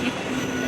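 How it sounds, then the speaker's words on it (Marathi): Train at a suburban station on the way to Virar, with a steady rumble of rolling stock and a faint wheel squeal running through the brief stretch, close and moderately loud. "आता आम्ही ट्रेनमध्ये चढतो"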